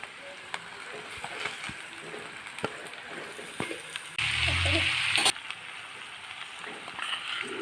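Pork with potatoes frying in a pan as cluster fig leaves go in gives a continuous, moderate sizzle with scattered ticks and pops, swelling into a louder hiss for about a second midway before settling back.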